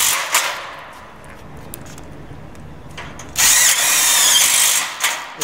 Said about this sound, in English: We also add extra screws into the studs, so we like to put at least one or two screws into every stud as well for extra strength